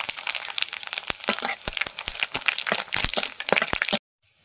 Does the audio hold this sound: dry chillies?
yes